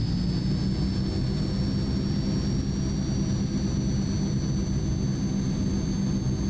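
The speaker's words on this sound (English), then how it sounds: "I want you guys to watch the left engine as I throttle it up" The left propeller engine of a Transall C-160 military transport throttling up in a flight simulator, a loud, steady low turboprop roar with a thin high whine held constant throughout.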